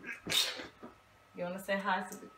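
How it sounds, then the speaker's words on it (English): A child's single sharp sneeze bursts out near the start, followed by talking close to the microphone in a home setting. "Go ahead and sneeze one more time."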